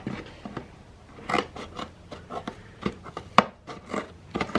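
Scissors snip through a Tetra Pak carton in a quick series of sharp, close cuts with uneven spacing and crinkly rustling between them.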